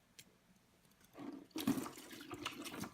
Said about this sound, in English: So I'm just going to do a little manual water change work here,